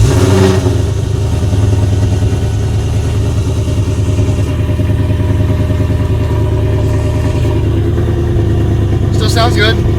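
A Ford Mustang Cobra engine runs loud and close with a deep, steady rumble that holds throughout, and a person's voice is heard over it.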